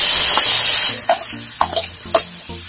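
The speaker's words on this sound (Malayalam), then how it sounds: "ഒരു പാൻ വെക്കാം, എന്നിട്ട് അതിലേക്ക് എടുത്തു വെച്ചിരിക്കുന്ന കൊഴുവ ഇട്ട് വെക്കാം" Anchovies (kozhuva) drop into a hot pan, giving a steady close sizzle that crackles and fades into scattered pops and light stirring scrapes.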